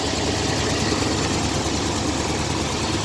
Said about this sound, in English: And the engine sounds pretty good.